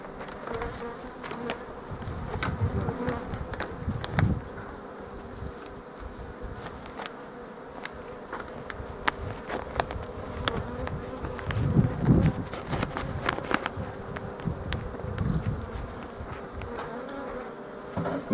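Honeybees buzz continuously around a hive, a dense droning swarm with occasional handling knocks and clicks close by.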